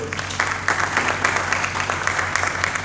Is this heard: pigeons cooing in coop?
no